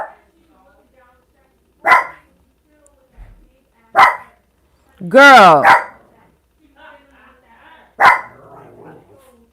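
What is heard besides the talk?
dog barking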